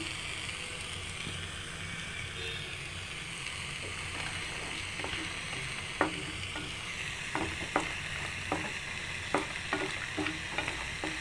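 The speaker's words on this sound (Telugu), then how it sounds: "మరుగుతుంది పాకం" Sugar syrup for sweet potato sweets boils in a pot, a continuous low bubbling hiss dotted with scattered soft pops that grow more frequent later on.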